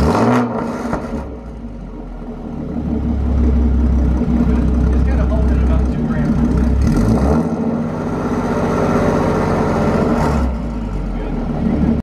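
A car engine revs up loudly and holds a high drone for several seconds, eases off, then revs again, with people talking over it throughout.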